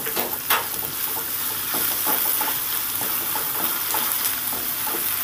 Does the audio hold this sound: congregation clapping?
no